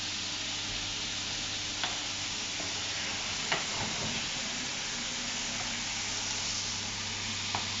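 Pork pieces searing in a hot frying pan give off a steady loud sizzle and hiss, with a few faint clicks of the pan or utensil and no talking.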